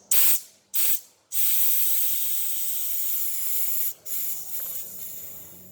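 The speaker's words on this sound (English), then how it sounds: "So see, from this sound we can know that all the oxygen, some amount of excess oxygen was there which was not used." Gas hisses sharply out of a bomb calorimeter as leftover oxygen is released, first in two short bursts and then a long steady rush that wavers and dips briefly near the end, close and loud.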